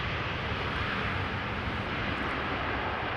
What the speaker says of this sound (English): Another big wheelie from A777 from KLM